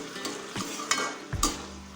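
Radish greens being stirred in a frying pan over a steady sizzle, with a few sharp scrapes and clinks of the spatula against the pan, close and fairly loud, no talking.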